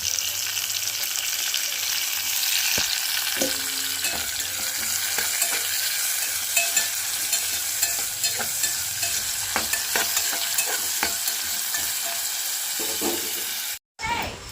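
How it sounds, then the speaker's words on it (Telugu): Chopped onions and tomato pieces fry in a pan with a steady close sizzle, broken by occasional stirring scrapes and a brief dropout near the end, with no talking. "ఆనియన్స్ కూడా ఫ్రై అవుతున్నప్పుడే టమాటా ముక్కలు వేసుకున్నాను"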